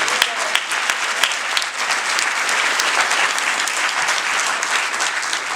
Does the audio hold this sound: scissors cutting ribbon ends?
no